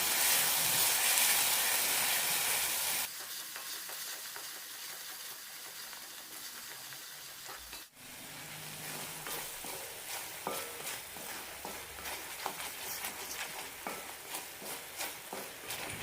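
Garlic chutney sautéing in hot oil sizzles and crackles steadily up close, with a louder burst in the opening seconds and a brief dip midway before the frying resumes.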